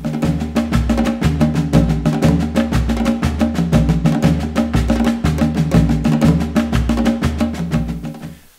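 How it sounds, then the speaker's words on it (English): An Afro-Brazilian 6/8 percussion rhythm in the Cortejo Afro style, influenced by candomblé and played on congas and other drums, rolls on loudly and evenly in a dense repeating pattern before fading at the end. "has a 6-8 rhythm, and with lots of influences from candomblé. Sounds like this."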